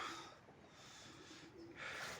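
Sport pigeons in a loft give low, faint coos against a soft hiss of background noise, the murmuring calls coming and going quietly with no one talking.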